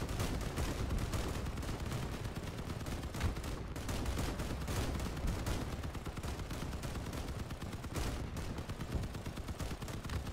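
Dense, continuous barrage of cannon-like blasts rolling without pause, loud and steady throughout, like rapid cannon fire in the game Crossout, with no talking.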